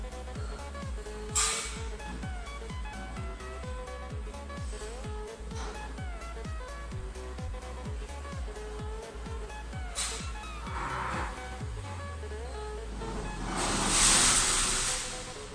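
A heat gun set to 300 degrees blows on the back cover of a Samsung Galaxy S6 edge, a steady close whooshing airflow over a low motor hum that swells louder near the end, without speech.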